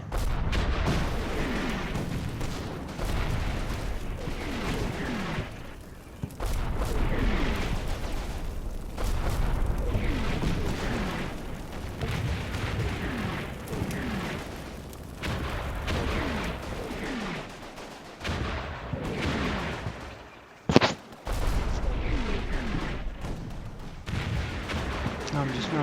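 Churchill tanks fire from a flank in the war game Combat Mission, with repeated heavy booms and gunfire rolling over a dense, continuous battlefield din, broken by a short sharp crack near the end.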